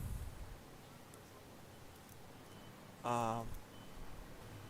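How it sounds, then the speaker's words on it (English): Electronic beeping in the background while someone plays the factory game Satisfactory: a rapid series of short, evenly spaced tones in one burst of about half a second, clear against a quiet room. "Something is beeping in the background."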